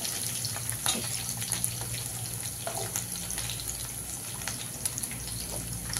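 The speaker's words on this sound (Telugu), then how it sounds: "ఆనియన్ కొంచెం ఫ్రై కావాలండి" Sliced onion with green chillies frying in a pan, a continuous low crackling sizzle with faint scattered ticks and a steady background hum, fairly quiet and even throughout.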